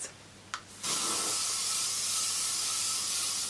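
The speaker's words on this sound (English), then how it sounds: "So I'm just going to use this hairspray over the braid to make sure that it stays in place." VO5 hairspray sprayed over a braided section of hair: a small click, then a close, loud, steady hiss that runs continuously to the end with no talking.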